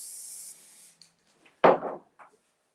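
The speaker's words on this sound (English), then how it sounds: "Just a little bit of spray glue again." Spray glue hisses from a can onto a flower in a short steady burst, followed by a pause, then a sharp, louder spray puff with a brief tail and a final faint puff, close up and without speech.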